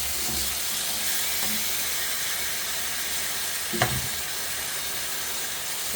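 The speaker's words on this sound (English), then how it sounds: "They've been sizzling away for a few minutes." Lamb steaks sizzle steadily in a frying pan, a constant broadband hiss of frying fat with a brief louder spit or clatter near the end, with no talking.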